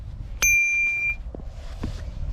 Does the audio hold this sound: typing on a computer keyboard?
no